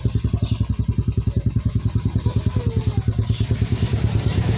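A motorcycle at a second-hand bike showroom idling close by, its engine giving a loud, steady, rapid pulsing throb that continues evenly throughout with no talk.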